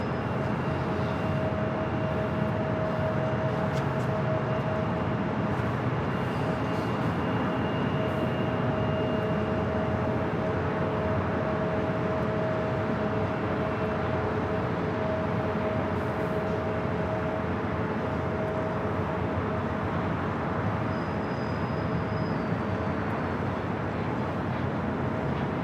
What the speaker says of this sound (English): We do have that Korean Air Flight 11, the 747-8 Intercontinental, coming in from Seoul, should be landing here on the north side.